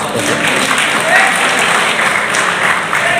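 A crowd at a wedding ceremony claps continuously, a dense, loud, steady applause without breaks.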